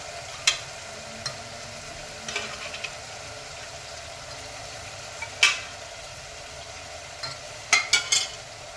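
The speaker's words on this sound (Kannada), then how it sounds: "ಇವಾಗ ಬೇಯಿಸಿಟ್ಕೊಂಡಿರೋ ಮಟನ್ ಹಾಕ್ಕೊತಾ ಇದ್ದೀನಿ." Cooked mutton added to a frying pan with ginger-garlic paste for biryani: soft background sizzle with scattered sharp clatters and scrapes of a spoon stirring in the pan, no talk.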